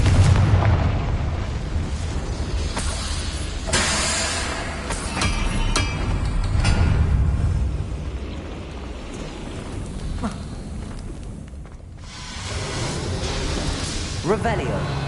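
Blasting spell explosions in a video game, heavy booming bursts that erupt repeatedly with rumbling low-end tails, loud and close, separated by brief quieter gaps.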